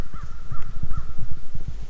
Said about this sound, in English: those crows started at 6:15